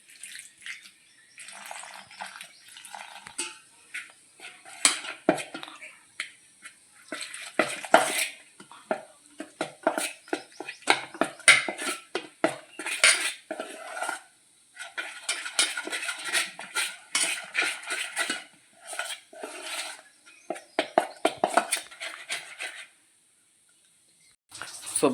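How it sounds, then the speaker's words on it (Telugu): Gram flour being mixed with water in a bowl for kara boondi batter, heard as close, irregular scraping and clinking of a utensil against the dish in repeated bursts with brief pauses and no talking. "అది మనం ఇప్పుడు కొంచెం వాటర్ వేసుకొని కలుపుకోవాలి."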